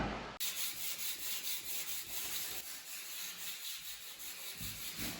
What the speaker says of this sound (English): now I'm going to run the edger with 60 grit